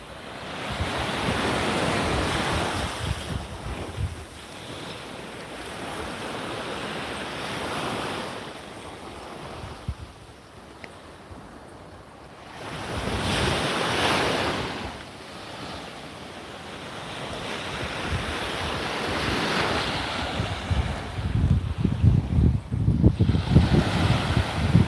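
Ocean surf rolls in on a Barbados beach at daybreak under strong gusting wind, with heavy wind buffeting on the microphone. The roar swells and eases in long waves, loud and close throughout, with no talking.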